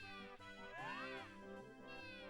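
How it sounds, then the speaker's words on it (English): Squawking creature cries from a Nintendo 64 video game, a quiet, tonal, warbling call with rising and falling pitch sweeps, repeated a few times over a couple of seconds. "All the squawking sounds."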